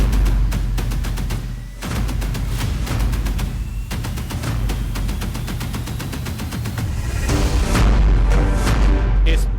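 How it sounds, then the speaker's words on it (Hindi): Blasts and bursts in Tehran, with cars blown apart at a red light: a rapid series of sharp impacts and booms, loud and close, continuing throughout. "तेहरान में ये धमाका और रेड लाइट पर खड़ी कारों के उड़ते हुए"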